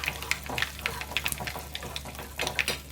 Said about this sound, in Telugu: ఆవాలు ఫ్రై అయిపోయి ఇలా చిట్పట్లాడుతున్నప్పుడు